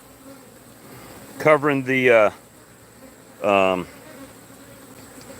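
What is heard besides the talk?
honey bees buzzing over a hive being prepared for splits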